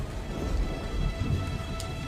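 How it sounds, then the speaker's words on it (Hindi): Heavy rain in an animated scene, with water dripping through the roof of a broken-down cowshed; a loud, dense rush with low rumbling swells and scattered drips, no voices. "तभी जोरों से तेज बारिश होने लगती है और शामू की टूटी फूटी गौशाला के छत से पानी टपकने लगता है"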